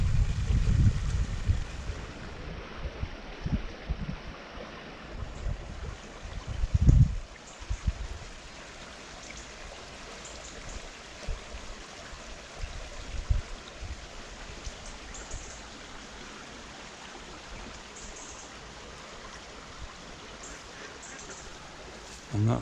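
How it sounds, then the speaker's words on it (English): Quiet rushing water of the River Trent flowing beneath a canal aqueduct, heard from a narrowboat cruising the Caldon Canal, with soft continuous wash, a few low thumps and some wind-like noise. "So down here is the River Trent."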